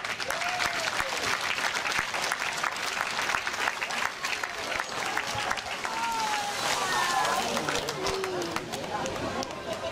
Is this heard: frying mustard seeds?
no